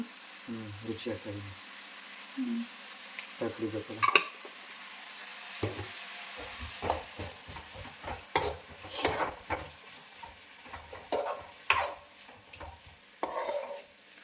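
Food stirred and fried in a pan on a home kitchen stove, with repeated scraping strokes and a soft sizzle building over the clip, close and moderately loud, with brief low hums at the start.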